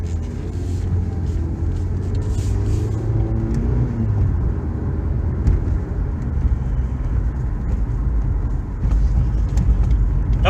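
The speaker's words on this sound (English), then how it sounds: "Well, here's the regular shifting." Cabin sound of a 2014 Ford Focus driving with its automatic transmission shifting, a steady low engine and road rumble with subtle shifts in tone, no talking.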